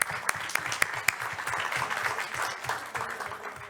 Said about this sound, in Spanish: Gracias, un aplauso, por favor.